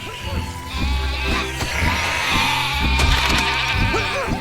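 Sheep bleat repeatedly in the video game Overlord, a string of close, wavering calls over a steady game soundscape with a low rhythmic background.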